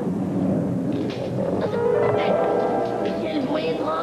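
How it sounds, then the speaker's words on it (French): A thunderstorm with wind blowing through trees, heard as a steady, loud, rushing roar with low rumbling, continuous for several seconds with no talk. "C'est sûrement l'orage et le vent dans les arbres d'or."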